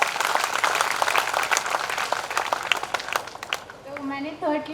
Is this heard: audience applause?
yes